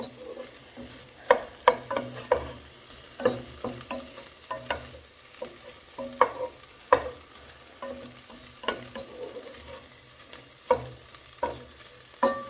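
Sliced courgettes sizzling in a frying pan for a quiche, stirred with a utensil: a steady soft frying hiss under frequent close scraping and tapping strokes in an irregular rhythm.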